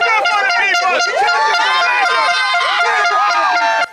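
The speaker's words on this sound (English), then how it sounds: "Grand Bahamas Minister Ginger Moxie walled in by a dense crowd of supporters" A dense crowd of PLP supporters packed around Grand Bahama Minister Ginger Moxie, cheering and shouting together in a loud, close, continuous roar that ends abruptly.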